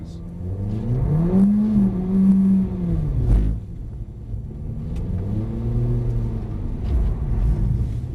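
A Mercedes-AMG A45 engine pulls hard at full throttle on a track, with a loud close roar that climbs in pitch, drops back at each gear change, then rises again, and no talk over it.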